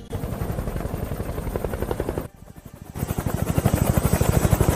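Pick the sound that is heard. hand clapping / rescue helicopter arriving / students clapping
rescue helicopter arriving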